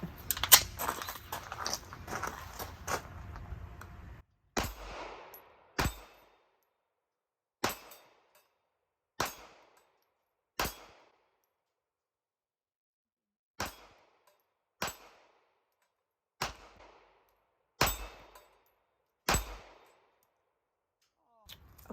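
Sig Sauer P365 pistol in .380 ACP firing at steel targets: a quick string of shots opens the clip, then a dozen sharp single reports spaced a second or two apart, each followed by a faint metallic ring.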